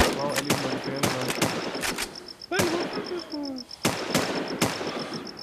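Gunfire in the survival game Infestation Survivor Stories: sharp, irregular shots and short bursts ring out at close range, with a faint repeating electronic beep running underneath.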